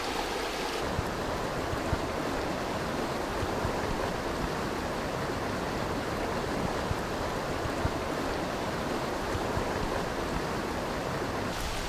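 A sampling net swept back and forth through trout stream water gives a steady, close wash of flowing water and churning splashes that runs unbroken for the whole stretch.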